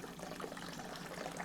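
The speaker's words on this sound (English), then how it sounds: "that's rinsing all of those fermentable sugars out of that grain bed" Water streams steadily through a screen diffuser, rinsing fermentable sugars out of a mash grain bed as a continuous, even trickle and splash at close range.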